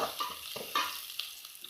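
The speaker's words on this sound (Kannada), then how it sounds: "ಈರುಳ್ಳಿಯ ಜೊತೆಗೆ ಕೊತ್ತಂಬರಿ ಬೀಜ ಚೆನ್ನಾಗಿ ಹುರಿಯಲಿ." Coriander seeds frying with onions in a pan give a short stretch of close, gentle sizzling, broken by a couple of scrapes from stirring.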